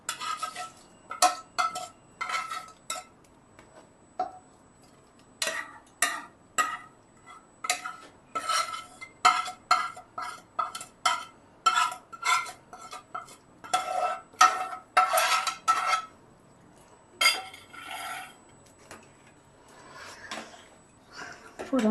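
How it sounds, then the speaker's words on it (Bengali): A spoon scrapes and clinks against a metal pan while tempering spices are stirred for egg khichuri, irregular bursts of scraping strokes with short pauses between them, close and fairly clear with no talking. "ফোড়নটা আবার ভালো করে মিশিয়ে নেব"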